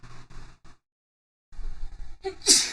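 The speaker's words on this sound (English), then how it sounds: "I gotta sneeze." A person sneezes once, a sharp close burst near the end that follows a brief intake and comes after short spoken fragments and a moment of silence.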